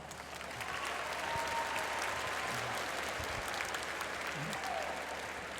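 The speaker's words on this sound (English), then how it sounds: "Give your youth ministers a round of applause." Audience applause for youth ministers at a Catholic youth conference session, a large crowd clapping steadily and loudly throughout, with scattered cheers mixed in.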